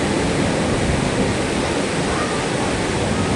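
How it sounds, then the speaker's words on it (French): Rough sea waves crash on a coast, a loud, continuous roar of surf filling the whole stretch with no talk. "Vous voyez le bruit des vagues?"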